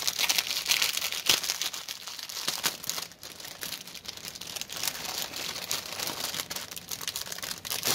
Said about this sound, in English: The bags are kind of crinkly.